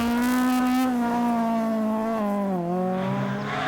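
A rally car spins out on a stage of the 2007 Donegal International Rally, its engine holding a loud, strained sustained note that sags and drops in pitch, with tyre noise underneath.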